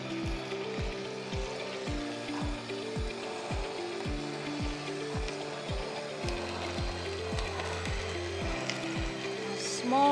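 Close, rhythmic grinding and ratcheting as the small auger of an Elite Gourmet EJX600 compact slow juicer crushes produce, repeating in regular clicking pulses over a low motor drone.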